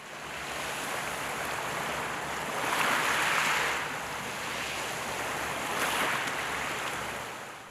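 Ocean waves roll onto a beach, two surges swelling and washing back over a steady background rush.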